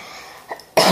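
A woman who is unwell coughs once while tidying the house in the morning, a short loud burst near the microphone after a quiet room tone with a faint earlier throat sound.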